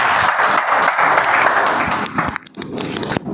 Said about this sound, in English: Let's give another thunder round of applause to Toastmaster Shashi